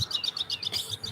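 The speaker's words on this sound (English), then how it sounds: "You can still hear the birds a lot" Small birds chirp outdoors in a rapid run of high, quick tweets, faint and somewhat distant.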